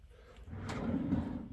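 A drawer on a wooden children's writing desk slides open or shut once, a soft woody rumble building in the middle and fading near the end, close by with no talking.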